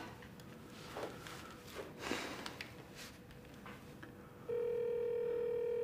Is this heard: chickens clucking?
no